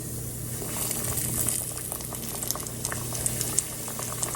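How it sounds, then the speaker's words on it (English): Cabbage fries dropped into hot oil in a skillet produce a steady, dense bubbling sizzle with scattered crackles and pops, close and moderately loud throughout, with no talking. "Now, all we need to do is put our cabbage fries right into the oil"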